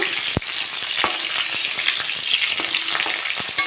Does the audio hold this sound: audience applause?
no